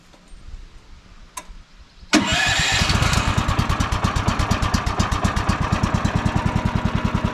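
A Woodland Mills sawmill's small engine cranks with a sharp catch, then fires and settles into a loud, steady, rapidly pulsing idle that runs close by and alone.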